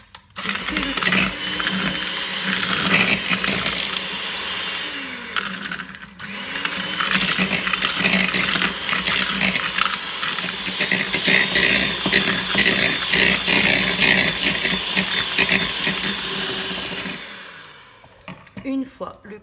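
An electric mixer creams very soft butter and sugar, a loud close motor whir running almost continuously with brief dips in pitch and a pause near the middle, then stopping near the end.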